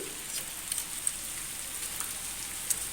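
Heavy rain falls in a steady, fairly faint hiss, with a few sharper drops spattering nearby, no voices heard.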